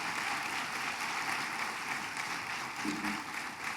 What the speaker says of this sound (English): Please join me again in a round of applause for Vicki Nichols,